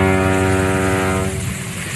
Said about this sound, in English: Ship.